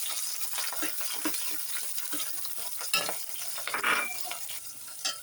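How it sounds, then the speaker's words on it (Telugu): Chopped onions and green chillies frying with cumin in a pan while a spoon stirs them, a steady close sizzle broken by scraping strokes and a few clinks against the metal. "ఇవి వేసుకొని కొద్దిగా ఫ్రై చేసుకోవాలి."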